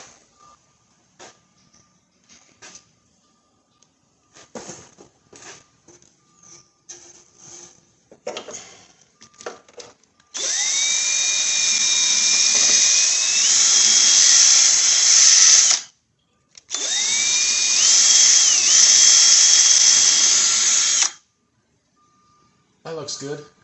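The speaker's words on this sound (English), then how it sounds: "I'm going to get a different wire brush for that one." A wire brush spun on a power drill scrubs car A/C parts from a 2002 Ford Windstar, whining loudly in two sustained runs of about five seconds each, the pitch shifting under load, after scattered handling clicks and knocks.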